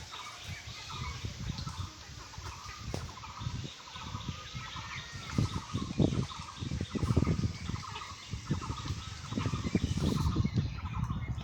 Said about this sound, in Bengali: এগুলো সব 1 মাস 3 দিনের হাঁস